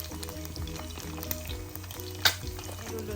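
A hotdog fries in a pan with a steady, close sizzle and crackle running throughout, a brief sharper spatter standing out near the end, with a low tonal hum underneath.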